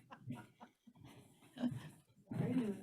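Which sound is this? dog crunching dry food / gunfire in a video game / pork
dog crunching dry food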